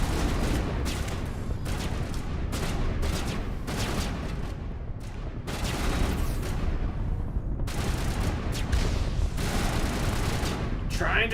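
Gunfire in Mass Effect Legendary Edition rattles in dense, continuous bursts with heavy booming impacts filling the whole stretch, loud and close.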